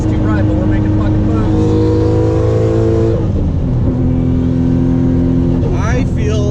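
A 900+ hp Nissan R34 GT-R with an RB26 engine, right-hand drive, revving and accelerating hard from inside, the engine note climbing in pitch, dropping at a shift near three seconds, then climbing again, loud and continuous with some talk nearby.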